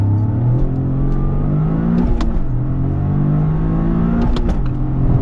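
Car engine, a sports hatchback from the Honda Civic Type R and Toyota GR Corolla pair with a manual gearbox, revs hard under acceleration, its pitch climbing steadily, dropping at a shift, then climbing again, loud and close throughout.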